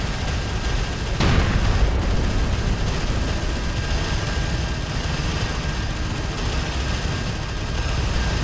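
Broadband rumble of combat in the real-time strategy game Homeworld: Deserts of Kharak, with one sharp blast early on over a steady dense roar of engines and distant explosions, no talking.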